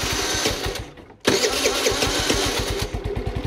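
A Kymco 50 scooter engine, its seized starter motor just freed, stays quiet for a moment, then abruptly catches and runs with a loud, steady, pulsing putter close by.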